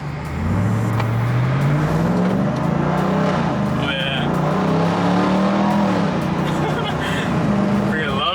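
TRX truck with a mid muffler delete accelerating on the road, a deep exhaust roar climbing and falling through gear changes, recorded close from inside the cab.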